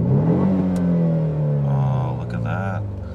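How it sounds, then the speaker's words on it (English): A BMW Z4 E89 engine revs up and back down with traction control switched off, a rising and falling mid-pitched drone that stays loud and close, with a brief second rev near the end. "Okay, now let's try revving now."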